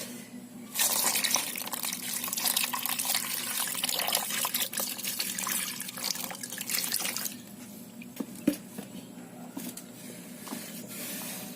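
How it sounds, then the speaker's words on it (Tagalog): Onions rinsed under a running kitchen tap, a continuous splashing stream of water for most of the clip, then quieter drips and handling with a couple of small clinks near the end, no speech. "So, meron tayo ditong sibuyas at saka ayan. So, hugasan muna natin."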